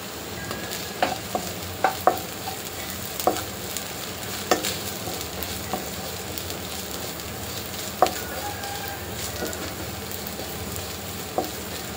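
Green chillies and curry leaves sauté in hot oil for a prawn masala, a continuous crackling sizzle broken by sharp pops and spoon clicks at irregular moments, close and fairly loud with no talk.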